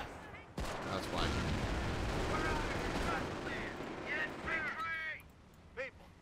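Nebelwerfer rocket artillery firing in the Company of Heroes Blitzkrieg mod, a dense, sustained roar of launches and blasts that fills most of the clip before cutting off, with a few higher whooshing streaks near the end.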